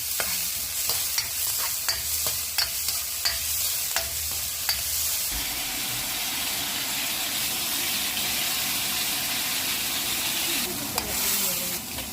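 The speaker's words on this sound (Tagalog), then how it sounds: "ngayon guys, ayan, igigisa na natin" Ground beef and vegetables sautéing in a pan for beef giniling, a steady loud sizzle with occasional clicks and stirring scrapes, continuous for the whole stretch with no talk.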